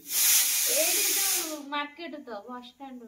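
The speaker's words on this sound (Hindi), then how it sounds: "प्रेशर कुकर टा को मिठा सिटी मारुची हैं" A pressure cooker lets out a loud, steady hiss of steam for over a second, then a voice talks over the fading hiss.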